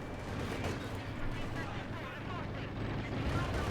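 Tank gun shots in the Company of Heroes 2 strategy game, with a Panther and Soviet tanks trading fire amid a constant wash of battlefield rumble and booms, with a commentator talking over it.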